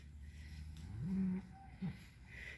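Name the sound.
cow mooing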